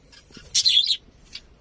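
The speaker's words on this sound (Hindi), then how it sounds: "तो ये वीडियो तो था ना ऑस्ट्रेलियन तोते," An Australian parrot gives a single sharp, loud screeching call near at hand, followed by a fainter short chirp, with no voices present.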